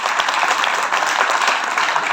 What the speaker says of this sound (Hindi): इसलिए जोरदार ताली, बहुत जोरदार ताली।